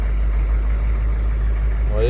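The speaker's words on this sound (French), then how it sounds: "Voilà, notre diesel est parti." A diesel engine from a Hummer H1 wagon idles close by in a steady, deep, even rumble that holds for the full two seconds.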